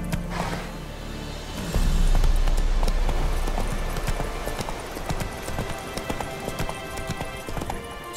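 Hooves of Roach, the horse in The Witcher 3 video game, clop in a steady trotting rhythm, close and fairly loud throughout, with a heavier rumbling stretch early on.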